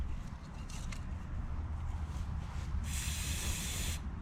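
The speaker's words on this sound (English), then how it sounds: "Glow in the dark spray paint." Glow-in-the-dark aerosol spray paint hisses out in one steady burst of about a second, coating an object outdoors, over a constant low background rumble.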